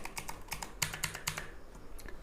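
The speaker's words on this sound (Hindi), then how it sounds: "अब आवाज़ सुन के जान सकते हैं कि मैकेनिकल कीबोर्ड है" Keys clacking on a Redgear mechanical keyboard, roughly a dozen crisp strokes in quick irregular bursts, close and fairly loud with no other sound.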